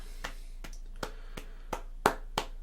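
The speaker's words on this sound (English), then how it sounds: "That's a sarcastic clap for anybody who can see that." A slow, sarcastic hand clap: six sharp, separate claps spaced roughly evenly apart, fairly faint and close, in a quiet room with no talking.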